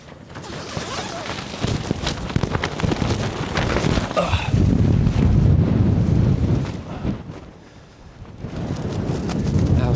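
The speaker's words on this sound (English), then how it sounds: "see how windy it actually is" Strong wind of around 20 miles an hour gusts outdoors around a tent, buffeting the microphone with loud, rumbling roars that swell and ease, dipping briefly before building again.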